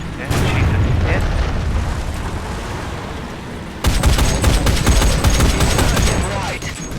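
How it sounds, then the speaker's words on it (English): Rapid cannon fire and reload mechanisms from a Japanese vehicle in War Thunder: a dense, continuous barrage of loud booming shots with rumbling engine noise, intensifying sharply halfway through with crisp repeated reports and mechanical clanks. "So it fires fast, it reloads fast, doesn't do an awful lot of damage"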